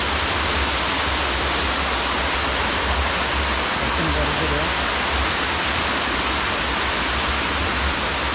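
Water rushes down a waterfall stream in Sri Lanka, a loud, unbroken broadband roar filling the whole stretch, with a faint voice briefly beneath it.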